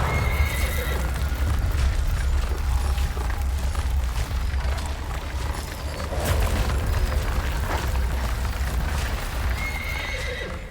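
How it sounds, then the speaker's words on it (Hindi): Horses neigh and whinny loudly over steady clip-clopping hooves and a deep rumbling score, as a team of seven pulls the sun god's chariot in a mythological drama. "ये सूर्य देव का रथ था जिसे उनके सारथी अरुण चला रहे थे, जिनके रथ को सदैव 7 घोड़े ही खींचते थे"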